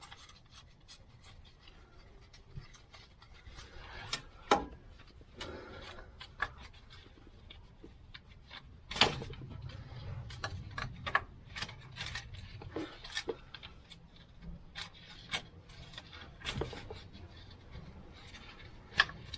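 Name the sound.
oil filter wrench on Land Rover Defender 300 Tdi oil filter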